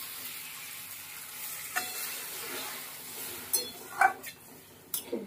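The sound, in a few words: water added to sizzling fish curry masala in pan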